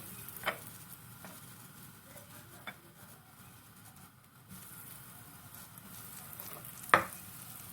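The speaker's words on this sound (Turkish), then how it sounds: "Kızdırdığım yağımın içerisine peynir toplarımı atıp her yeri böyle kızarana kadar pişiriyorum arkadaşlar." Cheese balls frying in hot oil make a faint, steady sizzle throughout, broken by a few sharp clicks and taps.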